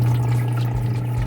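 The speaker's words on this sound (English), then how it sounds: "water is running, ice is running, water is running" Water running inside a TopDeep countertop ice machine, a steady close trickle over a constant low pump hum, with no voices.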